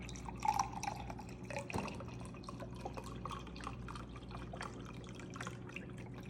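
Chicken broth trickling and dripping steadily into a crockpot, soft and close, over a constant low background hum.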